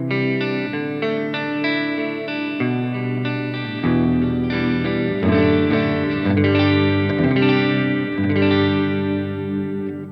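Electric guitar played through a POD Go's dynamic hall reverb, sustained chords and notes ringing out with a lush, spacious tail, steady and fairly loud throughout with no talking.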